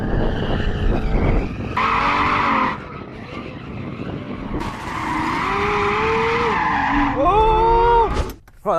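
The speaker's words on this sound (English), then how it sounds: "Before we race, we should probably warm up the tyres." A BMW M8 in rear-drive mode spins its wheels to warm the tyres, loud screeching tyre squeal rising and falling in long bursts over a roaring engine, close by and alone.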